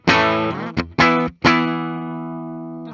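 On its bridge pickup, a Gibson Noel Gallagher 1960 ES-355 semi-hollow electric guitar gives a few biting, distorted notes in quick succession, then one held note that rings and slowly decays, loud and close with no voices.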